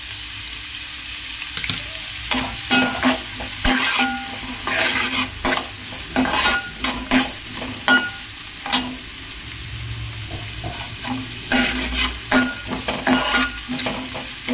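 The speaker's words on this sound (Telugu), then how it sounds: "కాస్త వేయించుకోవాలి." Stuffed brinjal curry fries in a pan with a constant sizzle while a utensil scrapes and stirs in repeated irregular strokes, close and fairly loud, with no voices.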